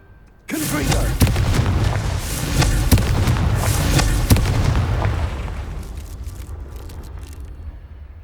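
A Confringo fire spell in Hogwarts Legacy on PS5 sets off a loud rumbling blast, followed by several sharp booming bursts over a sustained roar that slowly fades.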